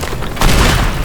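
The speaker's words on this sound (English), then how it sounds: "Take a rocket launcher." A single deep boom bursts from a rocket launcher hit in the destruction game Teardown, swelling out of steady background noise partway through and rumbling on to the end.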